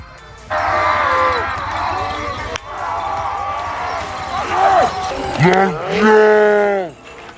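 Bulls at a village bullock cart race, with loud bellowing calls rising and falling over crowd noise and shouting voices, the calls overlapping and swelling toward the end.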